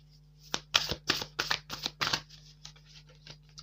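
Tarot cards being riffled and shuffled by hand, a quick run of soft, crisp flutters close by, then lighter taps that trail off, with no talk over them.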